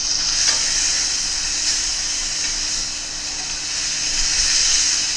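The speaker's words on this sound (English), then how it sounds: "Step 1 is all about adding flavor, getting that sear, that crispy crust" Salmon sears in a hot pan, a loud, steady hissing sizzle held close and unbroken, with faint crackles under a bright, airy spray of noise.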